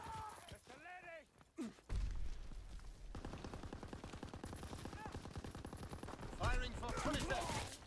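A Call of Duty artillery strike: a dense, rapid barrage of loud explosive cracks and booms rolls on for several seconds, with earlier game sounds and voice chatter around it.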